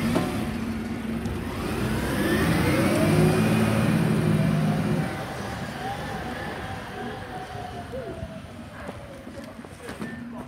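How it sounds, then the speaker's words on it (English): A green waste bin lorry engine revs and accelerates loudly for about five seconds on a Bournemouth street during bin collection, then drops to a lower idle rumble with faint distant noises. "Drive the trucks really fast, Martin can drive really quick"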